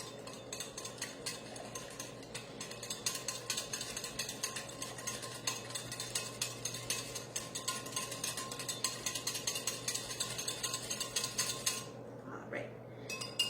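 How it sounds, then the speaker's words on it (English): A whisk rattles against a pot or bowl as gelatin and salt are stirred into hot boiling water for soap jellies, making a fast, continuous scraping clatter heard close up and fairly quietly. "I'm just going to whisk those together"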